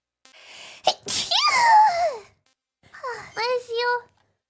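A sneeze with a sharp intake and high, voiced burst, followed by a softer second vocal sound a moment later, close and clear against silence.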